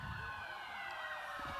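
Sheriff's vehicle sirens wail at a Christmas parade with continuous rising and falling sweeps. The sirens sound moderately distant and fairly faint, with light street noise underneath.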